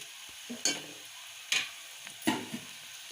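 Onions frying in a pan and being stirred, faint sizzling broken by a few sharp scraping strokes of a spoon spaced about a second apart.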